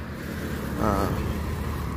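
A car passes close by on a road beside a villa in Kampung Serkam, Melaka, its engine rumble and tire noise swelling then fading against a steady low traffic drone.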